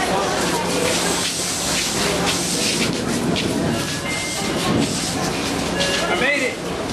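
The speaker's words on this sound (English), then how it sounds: "this is how you fight your way onto the metro in Cairo" Cairo metro train at a platform with a crowd pushing to board, a dense wash of rumbling train noise, hiss and jostling voices, loud and continuous throughout.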